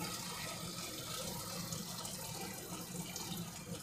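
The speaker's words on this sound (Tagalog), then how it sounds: "At lalagyan natin ng tubig" Tap water runs steadily into a cooking pot, a continuous soft splashing rush with no pauses.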